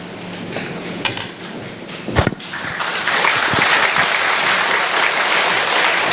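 A church congregation applauds the preacher as he comes forward to deliver a Sunday service sermon, a steady, full burst of clapping that swells and sustains from the room.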